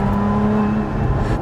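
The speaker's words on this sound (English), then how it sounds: "Most of what you hear is the supercharger whine and the intake as well" Supercharged 3.5-litre Toyota V6 in a 2023 Lotus Emira with manual gearbox, revving with steady supercharger whine and intake roar dominating, close and loud throughout without talk.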